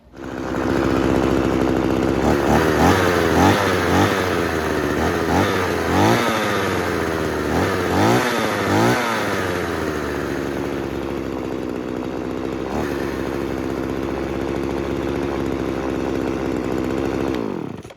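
Chainsaw engine running after a carburetor repair, loud and close, revving up and down repeatedly in the first half before settling into a steady high idle until it stops.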